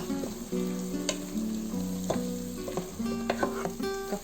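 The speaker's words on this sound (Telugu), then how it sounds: "ఇప్పుడు మనము టొమాటోస్ యాడ్ చేద్దాము. ఇక్కడ నేను 2 టొమాటోలు వేసాను." Two tomatoes sizzle and fry in a hot pan for a chicken curry with bathua greens, a steady crackling hiss broken by sharp clinks of a spoon stirring against the pan, close and fairly loud with no talk.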